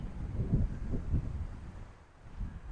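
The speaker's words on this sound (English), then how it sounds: "Windy." Wind gusting outdoors beside a lake in Regina, buffeting the microphone with a low, rumbling roar that swells and eases steadily and no voices.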